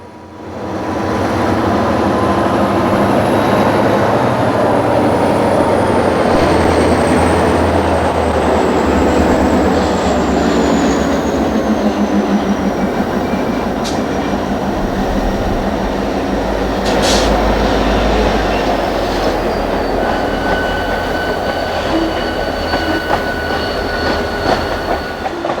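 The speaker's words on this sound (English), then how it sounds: "Of the two EMD locomotives, number 6006 is an SD35 and number 6917 is an SD9." Two EMD diesel locomotives, an SD35 and an SD9 that were originally Pennsylvania Railroad units, rumble past loud and steady with rolling wheel noise, faint squealing and clicking over the rails, continuous throughout.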